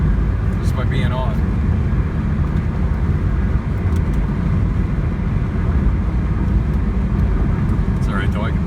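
Steady road rumble and engine drone from inside a moving car fill the cabin evenly throughout, with a faint voice briefly audible in the background.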